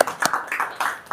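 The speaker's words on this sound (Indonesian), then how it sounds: "Tepuk tangan." A few people clapping, a sparse, fairly faint burst of hand claps with uneven rhythm over about a second.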